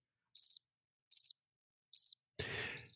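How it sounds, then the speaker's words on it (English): Crickets from a sound-effect button chirp in short, clean bursts repeated at even intervals, fairly loud against silence, with a brief rustling noise near the end. "I'm going to push the crickets button again because that's all we're hearing is crickets."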